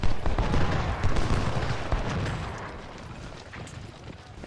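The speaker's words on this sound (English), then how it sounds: "Cannons are firing on them as well." Cannon fire rumbles through a Civil War battle in the Ultimate General: Civil War strategy game, a dense, continuous roar of overlapping booms and crackling shots, loudest at first and fading slightly, with no talk.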